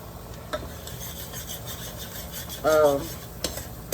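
A spoon scrapes steadily through chicken tetrazzini mixture as flour is stirred in, with soft rhythmic rubbing strokes and a brief voice sounding midway.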